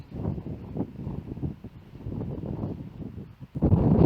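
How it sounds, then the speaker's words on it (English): Strong wind buffets the microphone on an exposed coastal footpath at Baggy Point near Croyde, gusting in steady low rumbling waves that swell sharply louder near the end, with no talk. "the wind is really strong now, I can feel it"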